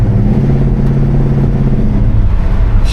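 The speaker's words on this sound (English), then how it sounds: "this car is driving good" A 1972 Oldsmobile Cutlass cruises along with its engine running, a loud, steady low rumble and whir heard from inside the car, without talk.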